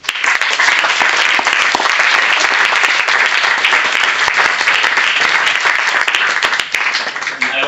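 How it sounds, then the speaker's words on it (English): A closing-ceremony audience gives the volunteers dense, loud applause, many hands clapping continuously and evenly throughout. "Also, round of applause, please."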